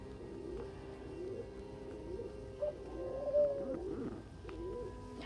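A pet bird coos softly indoors in a low, steady series of warbling coos with a couple of slightly louder swells, fairly close to the microphone and without talk.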